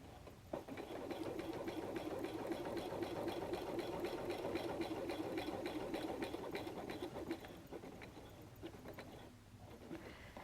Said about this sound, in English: I'll be sewing diagonally from this point to this point